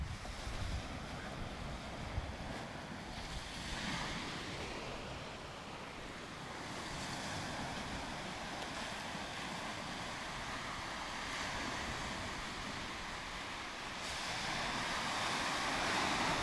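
Ocean waves break on the coast near Anamur, Turkey, beside seafront buildings and walls worn by the water. The surf rolls in a slow, continuous wash under gusty wind buffeting the microphone.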